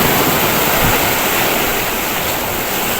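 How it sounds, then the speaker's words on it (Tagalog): Strong sea waves pounding a breakwater in Abu Dhabi during rough weather, a loud, continuous roaring wash of surf with no pauses, close to the listener. "Lakas ng alon"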